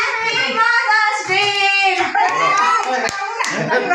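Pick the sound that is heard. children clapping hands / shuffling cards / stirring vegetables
children clapping hands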